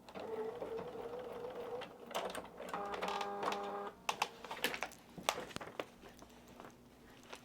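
A sewing machine stitches a paper-pieced quilt border, first whirring in a steady run with a brief higher-pitched stretch, then pausing into scattered clicks and handling knocks, close and quiet, with no talking.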